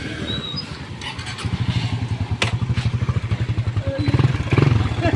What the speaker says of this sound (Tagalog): Yan tayo sa motor ni Ka Utoy.